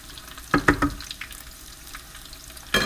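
Chicken cordon bleu pan frying in oil, a low steady sizzle broken by a few sharp crackling spatters near the start and end, close and without voices.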